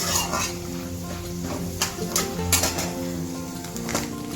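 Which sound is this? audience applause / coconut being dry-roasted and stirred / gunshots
coconut being dry-roasted and stirred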